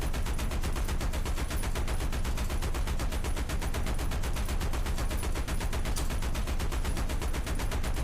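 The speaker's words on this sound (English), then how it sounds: "Let's just empty this full belt in both guns into the Panther." Sustained machine gun fire from two guns emptying a full belt into a Panther tank in the War Thunder video game, a dense, unbroken rapid rattle at steady loud level for the whole stretch, with no voices.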